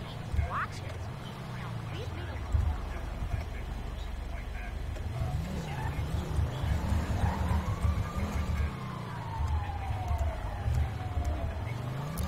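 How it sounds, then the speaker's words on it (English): An ambulance siren wails code 3 in the GTA 5 police mod LSPDFR, its pitch rising and falling in steady cycles over a constant engine rumble, with a person talking over it throughout. "That's kind of ambulance responding code 3, so maybe is going to go to medical call."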